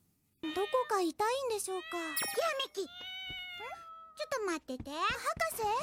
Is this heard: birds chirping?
no